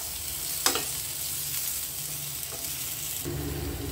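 A single tomato sautéing in a pan for garlic-tomato chutney gives a steady, quiet sizzle, broken by a few soft stirring scrapes and one sharper clink, with no one talking.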